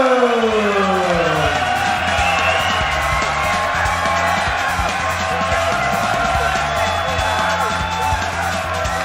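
An MMA arena crowd cheers as fighter Brian Adams enters the ring, a loud, sustained roar filling the space, with an echoing amplified voice and a falling tone near the start.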